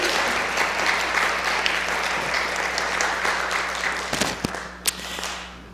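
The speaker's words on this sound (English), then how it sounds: "could we please applaud for that?" Audience applause at a church live stream after a meditation song, steady dense clapping filling the room for several seconds before tapering off near the end.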